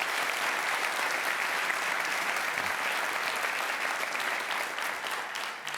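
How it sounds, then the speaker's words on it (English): A crowd applauds steadily and loudly for several seconds, a dense wash of clapping that holds even throughout before easing slightly at the end. "Applause, applause."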